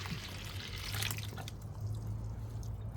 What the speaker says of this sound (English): So I'm going to take one of them here and just pour the hot water out.